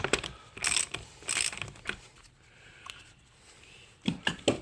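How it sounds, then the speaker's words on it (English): An extended handle ratchet clicks in short bursts while working on a Dodge Durango 3.6L Pentastar V6 oil cooler. Several loud, close ratcheting runs come in clusters, with quiet gaps between them. "Had to get my extended handle ratchet."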